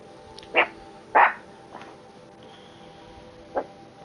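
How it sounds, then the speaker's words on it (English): A puppy barks a few times, two sharp yaps close together, a softer one after, then a final single bark after a pause, heard near and alone against a quiet room. "Any little noise and my puppy tends to bark at it."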